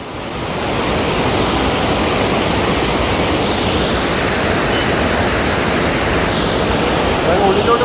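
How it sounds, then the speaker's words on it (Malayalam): A powerful waterfall at Kolukkumalai in Munnar roars from close by, a loud, steady broadband rush of falling water that fills the whole clip without a break. "ഇത് നല്ല ശക്തിയായിട്ട് വെള്ളം വന്ന് വീഴുകയാണ്"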